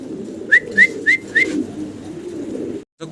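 Peshawari pigeons give four short, clear calls in quick succession over a steady low background murmur, followed by a brief pause.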